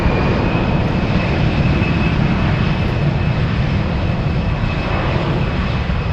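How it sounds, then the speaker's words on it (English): A Boeing 777 airliner on final approach to runway 25 left at Frankfurt gives a loud, steady jet engine roar with a faint whine running through it, sustained and close. "Big 777 on final."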